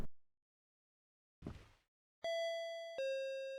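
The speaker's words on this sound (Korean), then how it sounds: "문을 열지 않자 초인종을 계속해서 누르는 여자." A two-tone electronic doorbell chime rings in the horror video game Akai Onna, a clear ding-dong following a faint thud and a short rustle, bright and close against near silence.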